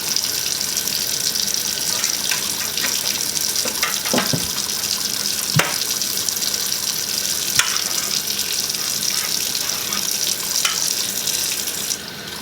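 Steady water pours from a kitchen tap into a stainless steel sink while soapy hands are rinsed, with a constant loud hiss and some light splashes and clinks.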